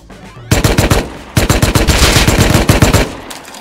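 Automatic AK rifle fire in the survival video game Rust: two loud, close bursts of rapid shots, a short one followed by a longer sustained burst, with no talk over them.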